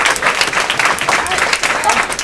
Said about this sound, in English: Can we give Val a round of applause,